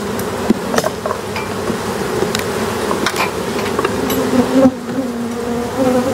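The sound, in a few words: honeybees buzzing in hive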